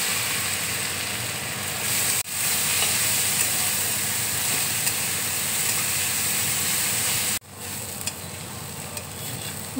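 Carrots fry in melted ghee with a bay leaf for gajar halwa, giving a continuous loud sizzle and hiss that drops out briefly twice, with faint stirring scrapes.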